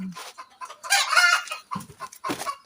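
Chickens cluck loudly and close during azolla pond work, a run of squawking calls with brief pauses between bursts.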